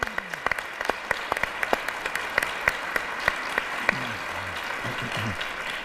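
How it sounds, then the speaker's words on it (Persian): Steady audience applause from a gathering honouring a Quran reciter from Afghanistan, moderate in level with a few sharper claps standing out, while a voice speaks briefly over it near the end. "تشویق بکنید استاد عبدالکبیر الحیدری رو."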